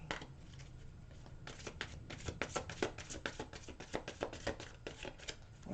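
Tarot cards are shuffled in a quick run of soft riffling snaps and taps, close and fairly faint, with no talking.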